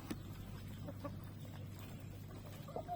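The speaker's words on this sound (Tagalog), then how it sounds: "Yan yung hybrid natin na roster." A black hybrid rooster clucks in short, scattered bursts outdoors, moderately close, over a low background hum.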